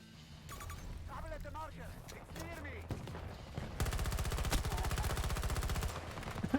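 A shooter video game fires bursts of automatic gunfire, building into a long, rapid, steady stream of shots, while someone talks over the game's noise.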